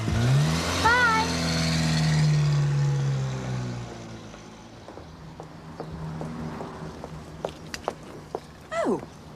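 A car starts, revs and pulls away, its engine loud and close at first, then fading into the distance, followed by faint footsteps and small knocks nearby.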